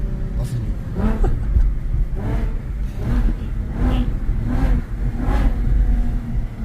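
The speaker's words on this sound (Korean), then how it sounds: "이 정도면 약간 배기 살짝 터진 순정 배기 느낌?" A car engine revs repeatedly through a slightly opened stock exhaust, about six rising and falling pulls in steady succession, close by, with people talking over it.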